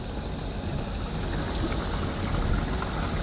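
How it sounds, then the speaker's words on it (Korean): Water flowing through the drainage of a rice paddy during low-carbon paddy water management, a steady close rushing and gurgling with no speech. "자, 여기 이제 배수는 보면 물 흐르는 소리가 들리죠?"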